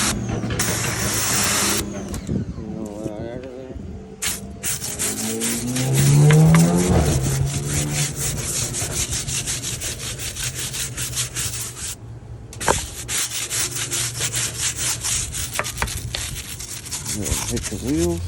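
Brush or pad scrubbing car tires and wheels, a rhythmic close rubbing and scraping with spraying hiss at moments, heard while someone talks over it.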